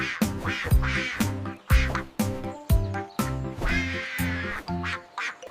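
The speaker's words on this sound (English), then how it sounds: "Mother Duck said, "Quack, quack, quack."" Duck quacks in a cartoon nursery rhyme come as a series of loud, close, nasal calls in quick groups, roughly a dozen separate quacks with brief gaps between them.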